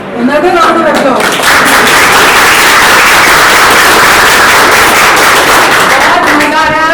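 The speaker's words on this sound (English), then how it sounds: "Another round of applause, can't help it." An audience at a school event at Kamla Nehru Public School, Phagwara, breaks into loud, sustained applause. A speaker's voice comes just before and again as the clapping fades.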